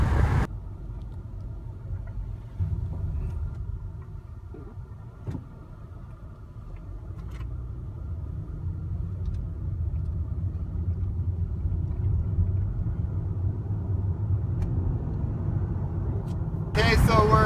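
A 1980 Lincoln Versailles cruising at speed, heard from inside as a steady low engine and road rumble that holds evenly throughout, with a person talking over it.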